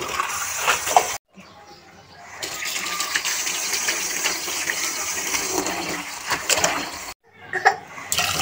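Chopped leafy greens being washed in water: steady splashing and gushing, close up, broken by two brief pauses, with faint sloshing between them.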